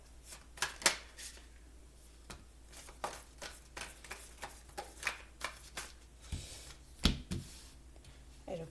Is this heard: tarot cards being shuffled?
yes